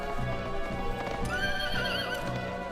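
Horses in the video game Suikoden 3 gallop with continuous clip-clop hoofbeats while a loud, wavering whinny rises over them partway through, all up close alongside battle-like game noise.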